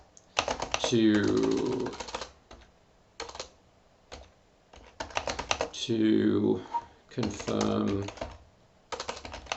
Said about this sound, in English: I'm actually a better typer than this